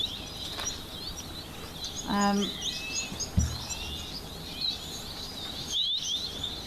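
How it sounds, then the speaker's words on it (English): Jameson's firefinches calling at a waterhole, with faint high chirps and twitters repeating over a steady outdoor background, plus a brief lower call and a soft thump in the middle. "Lovely little firefinches. I want to say Jameson's firefinches."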